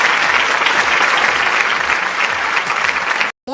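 An audience claps in sustained, dense applause at a comedy dance show, loud and even throughout before cutting off abruptly near the end.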